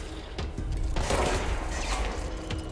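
Rapid bursts of gunfire in the video game Control crackle in quick succession over a dense, loud game soundtrack, with several sharp shots close together.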